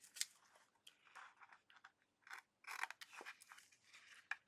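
Scissors trim the edges of a paper calendar page in a run of short, crisp snips with brief pauses between them, heard close up and fairly quietly.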